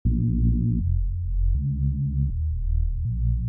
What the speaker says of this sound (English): we have this wavetable that we can put into unison like so.